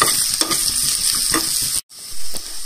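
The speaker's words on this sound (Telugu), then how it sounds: "ఈ విధంగా పచ్చడిని పోపులో బాగా మిక్స్ చేసేసుకొని ఒక 1 minute అట్లా కొంచెం ఫ్రై అవ్వనివ్వాలి" Ground ridge gourd chutney is stirred into a hot oil tempering in a pan, giving a crackling sizzle with rhythmic scrapes of a spatula, then a sudden short silence and a final scrape.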